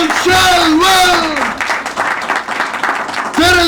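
A church congregation at an Urdu sermon applauds in a dense burst of clapping, with a loud voice calling out over it.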